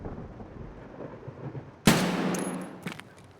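A single sharp sniper rifle shot cracks out in a foggy outdoor shooter game, a sudden loud report trailing into a rolling echo, with a fainter bang following a second later.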